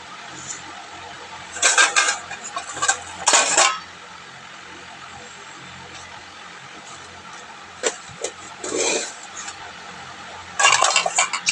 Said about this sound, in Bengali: তো চলুন চালটা ধুয়ে নিই।